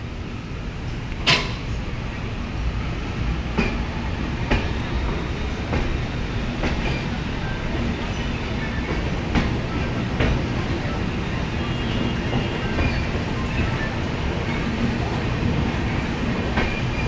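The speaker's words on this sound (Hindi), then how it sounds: "सामने वाली ट्रेन जो लखनऊ से वाराणसी सिटी तक चलती है" The Krishak Express, a train running from Lucknow to Varanasi City, rolls past nearby with a steady heavy rumble and a repeated rhythmic clatter of wheels over rail joints throughout.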